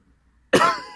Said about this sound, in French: Désolée de tousser.